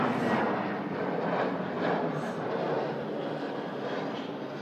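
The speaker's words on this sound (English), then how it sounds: "Gulf Air Dreamliner" Gulf Air Boeing Dreamliner taxiing at an airport, a steady broad engine roar with a faint whine, sustained and fairly near throughout without talk.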